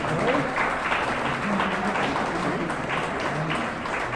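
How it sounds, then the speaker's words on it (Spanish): Steady applause fills an award presentation at a lawyers' college ceremony, a dense wash of clapping from an audience that holds evenly throughout without pauses. "Un aplauso, por favor."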